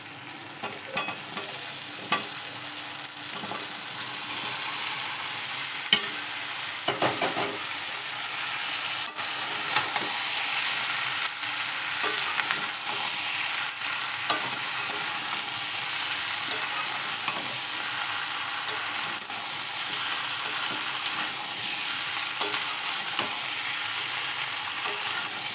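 Young jackfruit fries in a pan with a loud, continuous hiss and sizzle, punctuated by repeated scraping taps of a spoon as it is stirred, with no talking.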